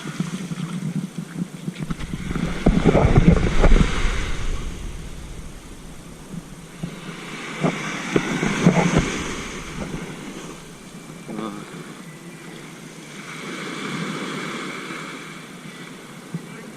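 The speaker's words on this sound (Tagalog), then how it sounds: "Lakas ng alon na." Strong sea waves surge and break in rolling swells at a beach in Ternate, Cavite, with a broad roaring wash rising and falling over several seconds against steady wind noise.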